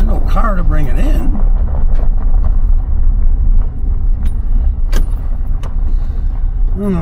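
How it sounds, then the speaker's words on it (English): A Sea-Doo personal watercraft engine on Robertson Lake gives a steady low drone that runs throughout, heard under someone talking. "Oh, it's a Sea-Doo."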